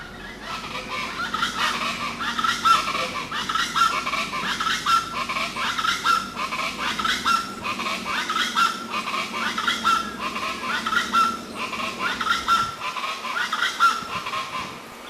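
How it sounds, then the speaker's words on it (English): Rufous-vented chachalacas, Tobago's national bird, call in a steady, repeating chorus of loud, raucous, rhythmic notes, several birds overlapping continuously through the outdoor scene. "And it's called a cocorico because of the sound that it makes."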